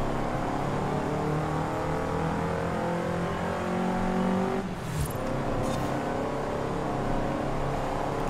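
An old-school Datsun in Forza Horizon 5 holds a steady engine drone, rising gradually in pitch as it accelerates, then a brief break with a shift or bump before the motor carries on, close and alone.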